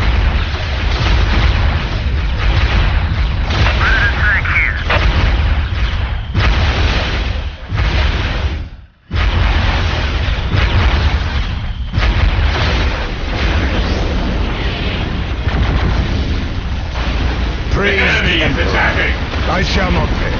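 Dense battle noise from the real-time strategy game Dawn of War: Soulstorm, Space Marines against Dark Eldar: a steady roar of explosions, artillery booms and gunfire runs almost without pause, briefly dropping out once, with in-game unit voices talking over it.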